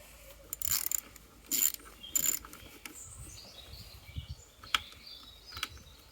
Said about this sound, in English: I need to get me sockets out to try and get that off.